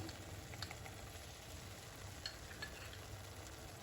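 Roasted gram flour (besan) fries in oil with a faint, steady sizzle and occasional soft stirring clicks.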